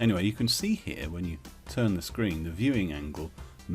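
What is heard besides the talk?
No distinct noise like a dog, phone or traffic.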